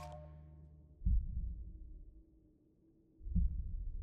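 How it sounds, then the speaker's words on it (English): A slow heartbeat from an animated Steven Universe episode: two deep, muffled thumps roughly two seconds apart over a low hum. "His heartbeat is really slow."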